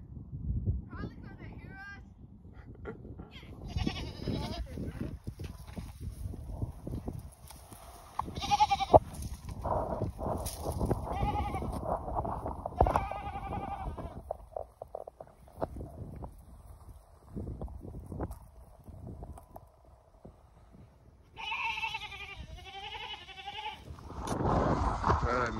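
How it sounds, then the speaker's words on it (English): A goat screams and bleats repeatedly in a large half-acre outdoor enclosure, the cries rising clearly in short bursts near the end, mixed with people talking and other farm animals close by. "Wow, the goat screaming."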